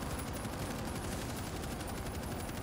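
Steady, dense gunfire from the zombie shooter World War Z fills the whole stretch as continuous rapid bursts, loud and unbroken, with no talk over it.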